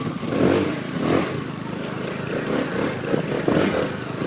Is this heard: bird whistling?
no